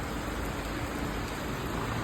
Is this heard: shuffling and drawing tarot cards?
no